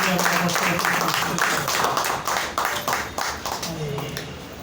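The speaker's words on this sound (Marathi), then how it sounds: "आपण टाळ्या वाजवून आपण त्याचं स्वागत करूया" A church congregation claps together in steady rhythm during a Sunday service, close and loud, with voices carrying under the clapping throughout.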